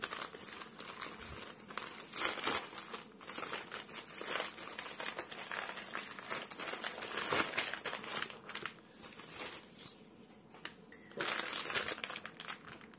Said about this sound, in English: let's begin with my unboxing knife. Okay, let's cut this open.